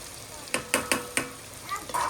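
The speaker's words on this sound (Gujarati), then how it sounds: "હવે આપણે નાખી દેવાની છે એમાં બાફેલી મુરગી." Boiled chicken goes into a pan of hot onion tempering for a Gujarati chicken curry, giving a quick run of four sharp sizzling splashes and stirring scrapes, then a softer steady frying hiss.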